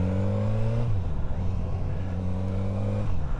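A Suzuki GSX-S1000F motorcycle engine idles close by, its revs stepping up slightly and holding as takeoff assist kicks in, then easing back into a steady low hum.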